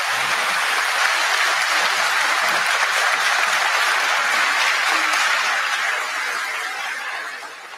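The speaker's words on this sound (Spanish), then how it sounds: "Fuerte el aplauso." Strong, sustained applause from a large audience at a Catholic church gathering, dense clapping holding steady throughout before tapering off at the end.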